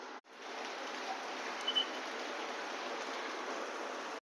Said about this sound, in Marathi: छान पाऊस पडतो आहे